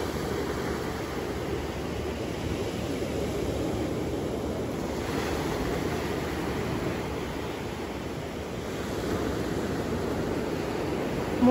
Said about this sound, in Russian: Море слегка штормит.